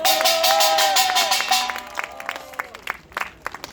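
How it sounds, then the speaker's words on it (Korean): Applause from a crowd at an outdoor patriotic rally, brief and fairly loud at first, then thinning into sparse claps while a held tone from a sound system fades beneath. "한 번 더 여러분 박수로 응원해 주시기 바랍니다"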